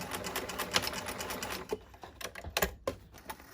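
A sewing machine runs in quick rapid back-stitching bursts for reinforcement, then slows into a few separate clicks and thuds, close up with no talking.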